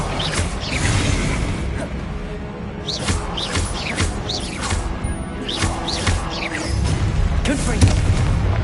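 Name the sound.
Confringo blasting spell explosion in wizarding video game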